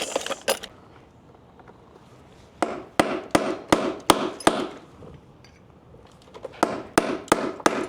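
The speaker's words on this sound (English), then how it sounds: "I'll just get a punch and knock that out" Sharp metallic hammer blows on a punch knocking a nail out of a 15th-century oak door, a few quick strikes, a pause, then a steady run of evenly spaced taps and a final cluster of hits.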